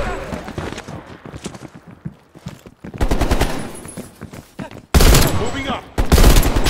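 Gunfire in Call of Duty Black Ops Cold War, bursts of automatic weapon fire in loud blocks mixed with game sounds and voices, with sharp loud volleys near the end.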